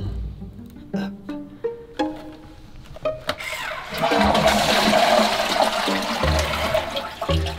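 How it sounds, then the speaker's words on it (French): A touchless sensor toilet starts its flush after a few knocks and clicks, then a loud rushing swirl of water pours for several seconds before tapering off, heard close up. "au lieu d'utiliser votre doigt pour tirer la chasse d'eau, vous avez juste à passer la main sur le dessus"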